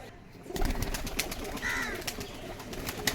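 Pigeons at the Katakhali pigeon market cooing intermittently amid a busy background of clattering, clicks and crowd noise, the calls moderately loud and close.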